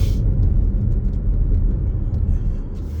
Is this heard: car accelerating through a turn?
yes